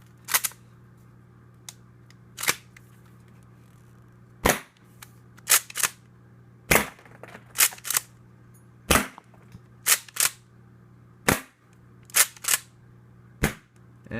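Tokyo Marui Breacher M870 HPA airsoft shotgun fired repeatedly: sharp, loud pneumatic cracks at irregular intervals, sometimes in quick pairs, over a low steady hum, with no voices.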